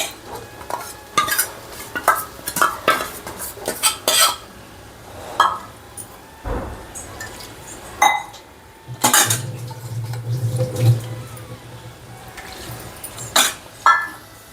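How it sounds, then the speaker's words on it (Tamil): Okra with cooked dal and chickpeas is stirred in a cooking pot, with repeated close metal-spoon scrapes and clinks against the pot. Between the strokes a low simmering hum rises and falls. "வெண்டைக்காய் உடஞ்சிராமல் பார்த்து கிளறி விடுங்க."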